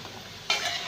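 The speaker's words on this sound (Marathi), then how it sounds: "आता आपण ही बालुशाही तळून बघूयात छानशी." Balushahi, a sweet fried dough pastry, frying in hot oil, a brief steady sizzle that swells suddenly halfway through as more dough hits the oil, close and without speech.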